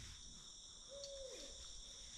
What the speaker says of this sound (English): These two owls have been talking to each other.